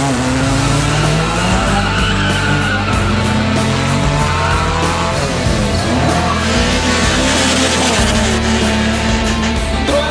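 A Citroen roars through a drag race at a Bozhurishte tuning show, loud and close, its engine revving hard with squealing tires the whole way.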